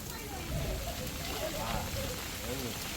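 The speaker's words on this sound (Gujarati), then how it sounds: "હવે વરસાદ ધીમો પડી ગયો છે" Steady rain patters on a village street while work carries on, a constant soft hiss filling the background under low, faint voices.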